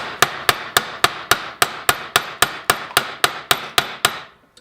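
About fourteen sharp metal hammer blows strike a rivet into an AK-47/74 rifle gas piston at a fast, even pace, each one loud and close with a short ringing decay.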